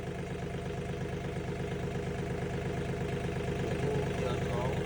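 A Mahindra tractor engine runs steadily in gear, a constant low rumbling clatter held at an even level throughout.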